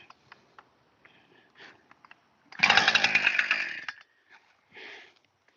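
A chainsaw cuts into an oak tree outdoors, a loud steady burst of about a second and a half, with quieter idling and sniffing-like noises before it and a short revving blip after.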